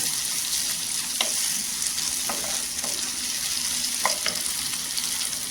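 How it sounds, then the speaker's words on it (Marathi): Two tomatoes sautéing in oil with salt, a steady close sizzle broken by a few sharp spatula clicks and stirring scrapes, no voices. "टोमॅटो छान असं परतून घ्यायचं."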